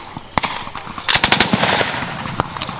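Machine gun firing during a U.S. Army battle simulation at Fort Magsaysay in the Philippines, a close, loud short burst of rapid shots with a few scattered single cracks around it.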